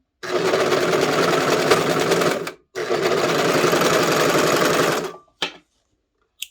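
Serger stitching a skirt's center back seam, loud and close in two steady runs with a brief stop between, then a short final burst.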